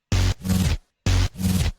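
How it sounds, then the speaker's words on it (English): Two loud bursts of heavy bass, each chopped into abrupt on-off pulses by a ShaperBox 3 volume shutter effect, separated by a brief silence. "I'm creating a shutter effect and applying to this"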